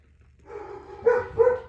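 Dogs bark indoors at a car with squeaky brakes passing outside, a muffled low rumble followed by two sharp, close barks.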